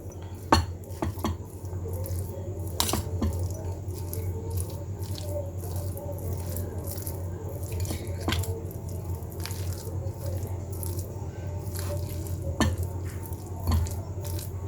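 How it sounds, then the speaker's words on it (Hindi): A spoon works chicken filling and mayonnaise together in a bowl, giving scattered sharp clinks against the bowl and soft wet squishing under a steady low hum, close and moderately loud throughout. "अब मैं 1 प्याली ये मेरे पास मायो है 2 चम्मच ये इसमें ऐड कर देंगे। और इसे अच्छी तरह से मिक्स कर देंगे।"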